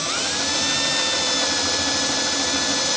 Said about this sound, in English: I'm starting the countersink.